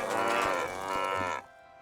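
Cows in the WorldBox video game let out a single long, loud moo that fades out at the end.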